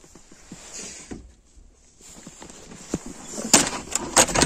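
The door of a snowed-in goat shed opens amid scraping and clattering, with a few sharp knocks and rattles toward the end, heard close up with no talking.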